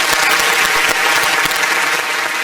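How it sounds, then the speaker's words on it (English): Steady round of applause from a crowd, dense overlapping clapping holding at an even loudness throughout, with no voices over it. "I would like to give it a round of applause for that."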